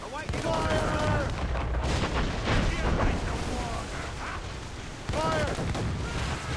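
Ship cannons fire in Assassin's Creed Rogue during a naval battle, heavy booming shots landing in bursts amid gunfire, with shouted voices over the noise.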